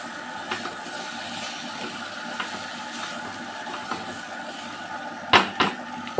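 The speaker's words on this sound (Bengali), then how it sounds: "এটা একটু নাড়িয়ে নিচ্ছি আলুটা দিয়ে দিয়েছি" A spoon or spatula stirs potatoes and pointed gourd in a cooking pan, giving soft scrapes and a few sharper clinks near the end over a steady low kitchen hiss.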